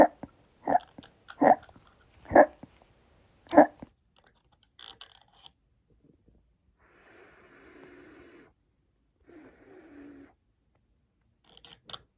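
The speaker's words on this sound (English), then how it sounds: "I got really bad hiccups." Sudden sharp hiccup sounds from a voice in a pretend-play scene with reborn toddler dolls, about five loud spasmodic bursts in close succession, then quieter rustling and faint breathy noise.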